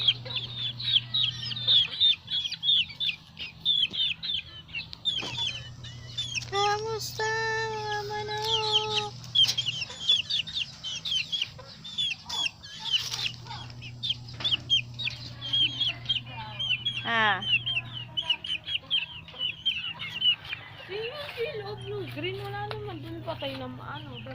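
Chickens cluck and chatter steadily throughout at a small vegetable garden, with a person speaking in short bursts over the flock and a low hum underneath.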